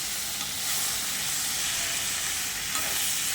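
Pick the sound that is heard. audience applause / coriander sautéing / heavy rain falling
coriander sautéing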